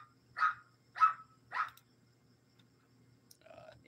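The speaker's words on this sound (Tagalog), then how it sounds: "may ingay yung mga aso ko" A dog barks three times in quick succession, fairly close, with a short pause before fainter yelps and noises follow.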